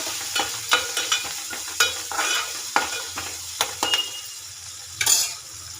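Onions frying in oil in a home kitchen pan while bottle gourd pakodi is prepared, with a steady sizzle broken by repeated sharp spoon scrapes and stirring clatter at an uneven rhythm.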